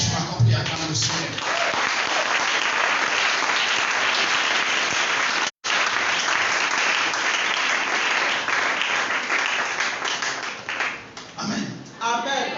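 A church congregation bursts into sustained applause, dense and loud, with one brief break and cheering voices mixed in before the clapping tapers off near the end.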